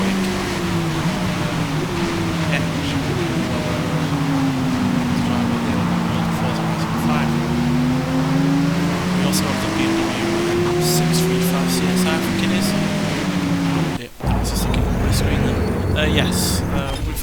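An exotic sports car's engine in the Forza racing game roars steadily and loudly, its pitch rising and falling as the car speeds along, with a brief dip near the end before the roar resumes.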